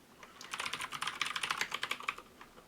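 Rapid typing on a computer keyboard produces a quick, uneven patter of crisp key clicks for about two seconds, heard alone and nearby.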